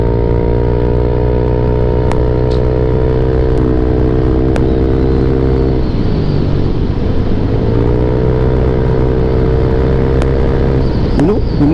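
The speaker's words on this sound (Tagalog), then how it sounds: "May motor!" Motorcycle engine on a solo road ride aboard a Yamaha Aerox V2 scooter, a loud steady close drone with a pitch shift midway, suggesting another motorcycle passing on the road.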